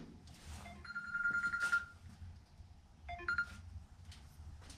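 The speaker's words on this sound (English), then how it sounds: "And my phone's ringing." A mobile phone rings in two short electronic bursts, faint and a little distant, over a low background hum, during repair work on a 1964 Plymouth Fury station wagon.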